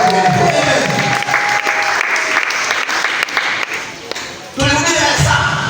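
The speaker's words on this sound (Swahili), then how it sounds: "Pigia Yesu makofi kwa ajili ya Mungu" Loud congregational applause for Jesus at a Pentecostal Holiness Mission church, sustained over crowd voices and calls, dipping briefly before a fresh burst near the end.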